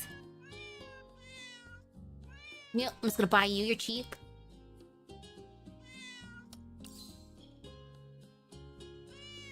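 Cats meow repeatedly in a cafe in Girls' Frontline 2: Exilium, with a loud burst of high calls near the middle and softer meows at either side, all under someone talking over game music.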